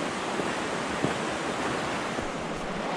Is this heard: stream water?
yes